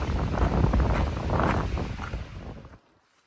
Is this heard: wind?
yes